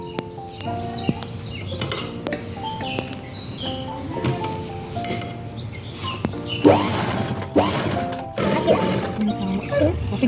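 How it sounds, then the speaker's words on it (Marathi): A sewing machine stitches tucks into a blouse in short buzzing runs, steady and close, with birds chirping in the background. "इथे आपण आता टक्स मारून घेऊयात तर इथे टक्सला शिलाई करून घेऊयात"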